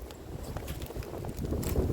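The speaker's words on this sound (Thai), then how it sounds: "ฟังเสียงลมจ้ะ" Wind gusts roaring steadily outdoors during mushroom picking on a dry, strong-wind day, a broad rushing noise buffeting the microphone and swelling louder toward the end.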